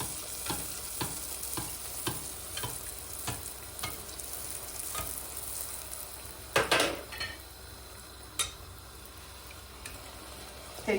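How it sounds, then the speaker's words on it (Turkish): Pişi dough fries in deep hot oil as a spoon repeatedly ladles oil over the top, producing a steady bubbling sizzle with regular metallic spoon clinks and a louder splashing burst partway through. "bu şekilde kabarması için kaşık ile yağ atıyorum"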